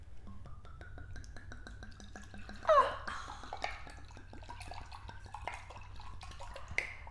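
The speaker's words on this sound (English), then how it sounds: "So we are drinking Da Vinci Vintage 2015 Pinot Grigio. Oh, yes. Let's pour it in." White wine, a Pinot Grigio, pours into a glass with a quick series of light drips and gurgles, a brief clink partway through, quiet and close.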